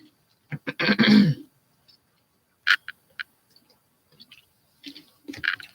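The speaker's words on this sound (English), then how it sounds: "I'm going to start coughing." One person clears their throat with a rough rasp and coughs a few times in short separate bursts, close to the microphone, with quiet pauses between them.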